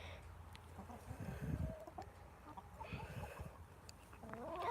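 Chickens in the video game Water Simulator cluck softly in short bursts over a faint background hum, with a small rising call near the end.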